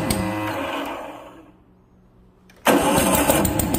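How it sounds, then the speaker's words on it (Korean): An air compressor engine cranks loudly, winds down into near quiet without catching, then its starter kicks in again abruptly with a loud churning crank. "시동이 안 걸려"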